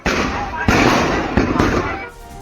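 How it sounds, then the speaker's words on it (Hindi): Firecrackers go off on the roof of a car, making dense crackling bursts with several sharp onsets over a couple of seconds, loud and close, while a voice talks over them. "कार की छत पर दरअसल पटाखे जलाते हुए चिंगारी उससे छूटी"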